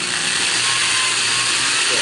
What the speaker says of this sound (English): I just drill through the bend work.